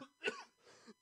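A single short cough, close and fairly quiet, with a brief breathy follow-through.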